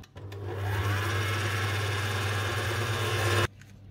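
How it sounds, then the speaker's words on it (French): An electric mixer creams sugar and softened butter for jam biscuits, giving a steady loud motor whir that starts abruptly and cuts off after about three and a half seconds. "on va commencer à mixer, à mélanger le sucre et le beurre ramolli"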